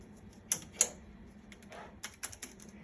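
Key presses on the Mindray DC70 ultrasound machine keyboard, a few sharp clicks spread irregularly across a few seconds, quiet and close with no talking.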